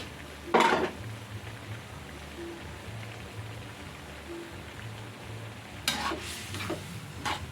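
A utensil scrapes and stirs a field rat and holy basil stir-fry in a pan, making a soft, steady sizzle. Two sharper clatters of metal against the pan stand out, one near the start and one near the end.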